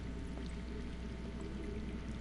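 Faint, steady rush of water flowing from underground in a Game of Thrones video game, a quiet continuous trickle with no voices over it.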